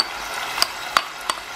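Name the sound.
tomato, onion and green chili paste frying in oil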